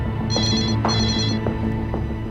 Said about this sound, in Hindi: जरा दूसरा फोन आ रहा है